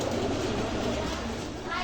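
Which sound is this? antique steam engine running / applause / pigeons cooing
pigeons cooing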